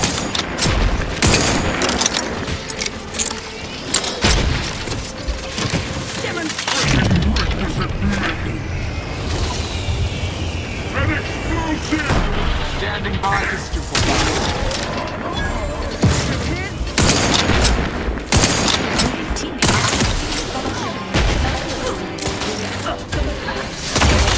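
Heavy gunfire from The Outer Worlds 2 rattles in dense, loud bursts and booming volleys over nearly half a minute, with in-game voices speaking between the shots.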